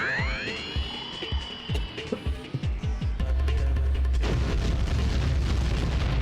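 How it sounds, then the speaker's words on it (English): Earthbreaker spell explosions in the role-playing game Breath of Fire IV, starting as a string of quick booming thuds and swelling into a dense, continuous roaring rumble of blasts, loud and with no talking. "Some Bomberman-ass explosions."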